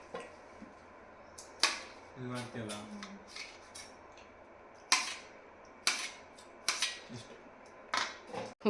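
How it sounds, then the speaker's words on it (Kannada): Fruit being cut at home, held on someone's lap, gives sharp scattered clicks and knocks of a knife at irregular intervals, close up, with brief voices in between. "ಫ್ರೂಟ್ಸ್ ಎಲ್ಲ ಕಟ್ ಮಾಡ್ತಾಯಿದ್ರೆ"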